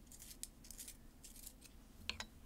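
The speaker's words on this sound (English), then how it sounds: "Oh, I need to sharpen the pencil." A pencil being sharpened, with short scraping bursts in a few separate strokes and a sharper pair near the end, faint and close against quiet room noise, no voices.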